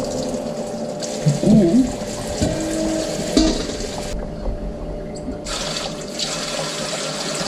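A kitchen tap runs water into a container to rinse homemade bird food for budgies, a continuous splashing flow with a few clunks and handling noises, with a brief word spoken.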